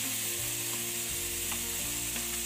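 Vegetables and tomato cook in a pot for a vegetable soup, giving a steady, close sizzling hiss with a few faint metallic stirring clicks and no voices.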